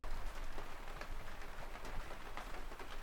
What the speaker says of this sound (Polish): Teraz właśnie pada deszcz, nie wiem czy słyszycie.